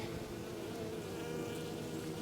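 Honey bees buzz inside a beehive among frames of honey, a dense, steady drone that holds at an even level throughout with no voices.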